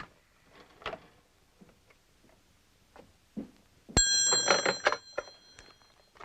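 A telephone bell starts ringing loudly for about a second during a collect call, after several soft knocks and clicks, then fades with faint sounds of movement.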